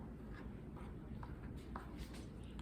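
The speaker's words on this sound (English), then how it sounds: "I'm gonna start slicing down with my blade" Razor blade slicing down through a twisted strand of hair during a haircut, a close, soft scraping hiss with a few faint crisp cuts, steady and low in level.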